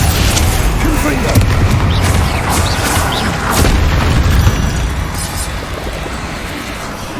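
A Confringo fire spell explodes in Hogwarts Legacy amid a fight with spiders, producing a heavy, rumbling boom with crackling debris over a dense, noisy battle background.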